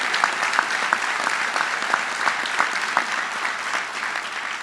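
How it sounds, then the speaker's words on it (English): A large audience at a university convocation applauds in a long, even wave of clapping, with a few sharper individual claps standing out from the dense, moderately loud crowd sound. "Let's give them a round of applause."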